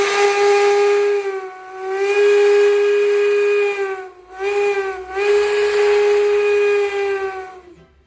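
An 1870 Baldwin plain bell single-chime steam locomotive whistle on the Virginia and Truckee Railroad sounds in long, loud, steady blasts, briefly dipping and breaking twice midway before sounding on strongly, with no talk.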